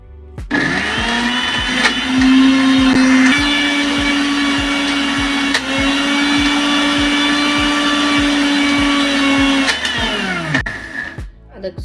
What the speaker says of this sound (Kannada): ಈಗ ರುಬ್ಕೊಳ್ಳೋಣ ರೀ ಸ್ವಲ್ಪ ತರಿತರಿಯಾಗಿ ರುಬ್ಕೊಳ್ಳೋಣ ರೀ